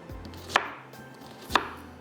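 Two crisp knife chops through an onion on a cutting board for a tikka boti recipe, spaced about a second apart, close and clear against a quiet kitchen background.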